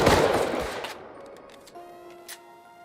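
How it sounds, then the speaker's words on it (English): A loud burst of rapid gunfire in the video game Rust opens, then fades into a quieter stretch with a few faint distant pops and a steady electronic tone. "heard some gunshots outside the base"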